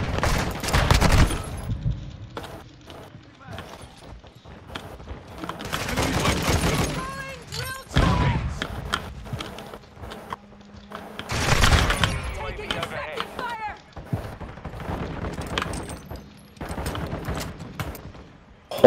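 Pistol gunshots in a video game, several sharp bursts of shots spread through the clip, some in quick pairs, loud and close, with people talking in between.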